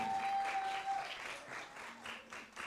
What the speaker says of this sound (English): A huge hand clap to our performers.